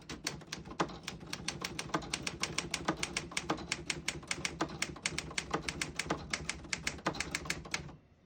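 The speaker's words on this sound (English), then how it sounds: "I'm going to type a sentence on this next line." A 1970 Remington Model 24 manual desktop typewriter being typed on, giving a steady, close run of crisp key strikes at an even pace for about eight seconds, with no voices.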